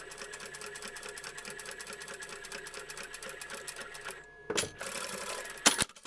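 A sewing machine stitching a double seam on a plush Easter goose toy, rapid even mechanical clatter running steadily, then stopping for a few handling clicks and a short restart, close and fairly quiet.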